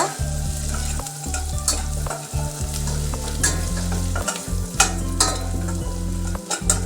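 Chopped garlic and ginger sauté in a pan with a continuous loud sizzle and crackle, broken by rhythmic stirring scrapes and occasional sharper pops; no voices.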